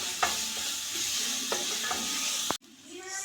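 Ginger-garlic paste fries in a mustard tempering with urad dal, dry red chillies and curry leaves, a steady close sizzle broken by a few sharp spoon scrapes before it cuts off abruptly near the end.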